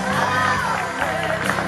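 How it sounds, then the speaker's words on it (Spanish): Crowd noise with cheering and shouting fills a school promotion dance, with a steady loud wash of voices and whoops throughout and music-like tones underneath. "Fuerte los aplausos."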